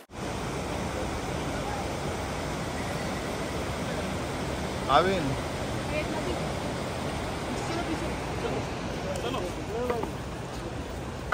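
Steady, broad rushing roar of a waterfall near the Kedarnath temple fills the whole clip, constant and fairly close, with faint voices barely audible beneath it.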